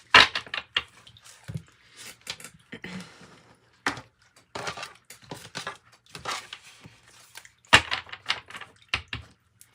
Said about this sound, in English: Let me do a little quick shuffle like this,